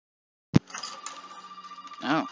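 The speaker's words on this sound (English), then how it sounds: "Phone's ringing." A telephone rings inside the Resident Evil 7 video game, a steady electronic trilling ring following a sharp click, with a brief voice-like sound near the end.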